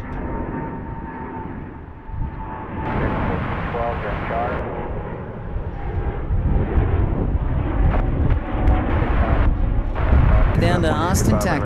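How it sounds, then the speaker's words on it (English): A Boeing Dreamliner heavy jet, Flight 281 bound for Seoul, at DFW airport produces a steady, broad engine roar that swells over about twelve seconds, with voices talking over it. "Flight 281, heavy, headed to Seoul on a Dreamliner."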